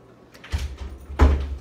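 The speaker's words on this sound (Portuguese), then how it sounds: "Fechem a porta, Fefe." A door is pushed shut indoors with two quick thuds, a softer bump followed by a louder closing knock, close and brief.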